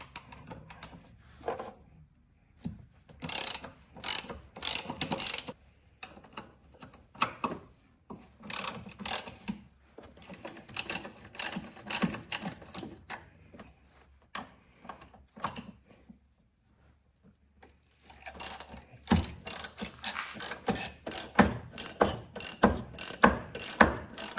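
A ratchet wrench loosening bolts during a strut replacement on a Volvo XC70, heard as long runs of fast, clicking ratchet strokes in several bursts separated by short pauses, close and loud with no talking.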